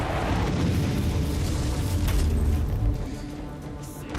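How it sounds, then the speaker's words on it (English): An explosion in Warhammer 40K Inquisitor rumbles as a sustained, loud, low roar of blast and debris lasting several seconds before slowly fading, with no talk over it. "Oh, there must be some explosion somewhere."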